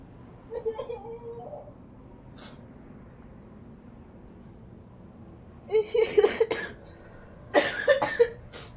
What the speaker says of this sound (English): Don't worry, it's not gonna be that's not gonna be a big cough